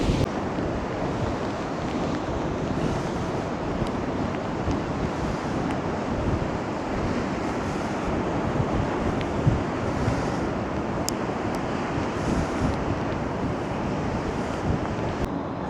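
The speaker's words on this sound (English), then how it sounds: "the waves are certainly getting up" Rough sea breaking along Blackpool seafront near high tide, with gusting wind buffeting the microphone into a loud, continuous roar of surf and air that never lets up for the whole stretch, no voices.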